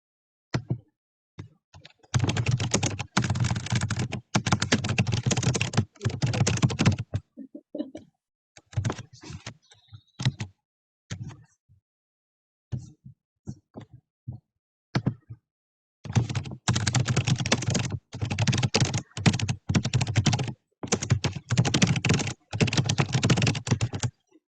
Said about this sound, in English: I hear typing though.